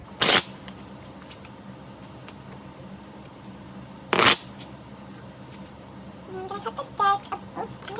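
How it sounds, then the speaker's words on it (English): Two short, loud riffle shuffles of a card deck several seconds apart, with quieter handling sounds and a few faint chirps near the end. "I'm gonna start shuffling"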